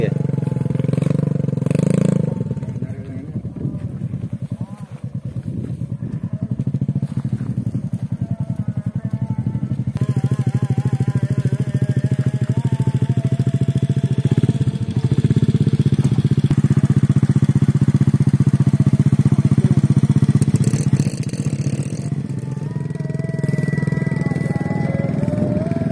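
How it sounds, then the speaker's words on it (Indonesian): A rider's own motorcycle idles and runs steadily close by for the whole stretch, a continuous low engine drone with clattery mechanical texture and occasional revs, with people talking over it now and then. "Ini motor gue, motor ngarep gue."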